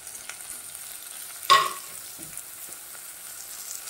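Tomatoes tipped into golden fried onions in hot oil for Maharashtrian masale bhat, a sudden loud sizzling burst that fades into a quieter steady fry, nearby, no voices.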